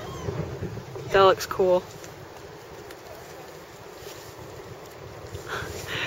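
Wind gusting by the water, a steady rushing roar buffeting the microphone throughout, with a short spoken remark partway through.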